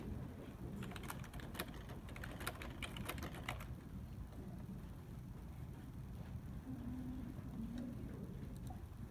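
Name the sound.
typing on a calculator in Desmos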